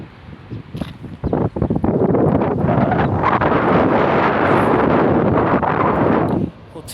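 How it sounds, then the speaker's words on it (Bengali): A sandstorm in Riyadh, Saudi Arabia, roars as heavy wind buffets the microphone in a dense, continuous rush, building after a second of lighter gusts and dropping off near the end; a voice talks briefly early on. "হচ্ছে বালুর ঝড়,"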